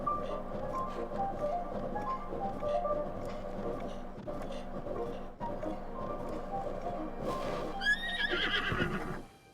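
A horse in a Zelda video game gives a long whinny near the end, set over a continuous game soundscape of ambient music and effects, with no talking.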